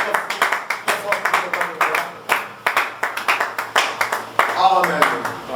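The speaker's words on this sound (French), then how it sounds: "Acclamons" A church congregation clapping in a steady rhythmic beat during a worship service, loud and close, with voices acclaiming and singing along throughout.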